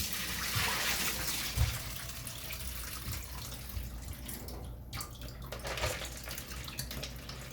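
Corn kernels being washed in a basin of water for a creamy corn dessert, a steady close sloshing and splashing with soft drips throughout, no talking.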